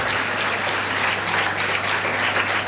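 A symposium audience claps loudly for soldiers, a steady dense applause sustained throughout, with a faint low hum underneath.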